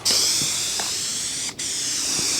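A steady hiss of spray paint from an aerosol can, continuous and close, with one brief break midway before spraying resumes.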